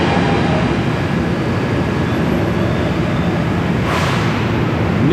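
Inside a New York City subway car on the F line, a constant loud rumble of the moving train fills the space, with a brief brakelike squeal partway through.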